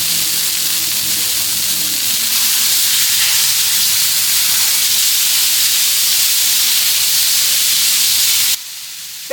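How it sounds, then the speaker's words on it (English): Ground beef sizzles on a Blackstone griddle outdoors as a loud, dense, steady hiss that runs nearly unbroken, then cuts off abruptly near the end, with no talk. "getting the ground beef on the Blackstone"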